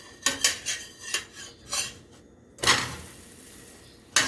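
A metal utensil clinks and scrapes against a buttered pan while a pancake is turned, a series of sharp separate taps and clatters with short pauses between them.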